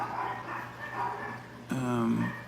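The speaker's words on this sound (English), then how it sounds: "The dogs decided to bark" Dogs barking at a distance, muffled bursts behind someone talking close to the microphone, with one clearer bark late on.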